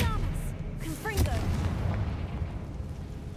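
A Confringo spell explosion in Hogwarts Legacy lands as a loud boom around the one-second mark, with magical whooshing sweeps and a rumbling tail under a dense game soundscape.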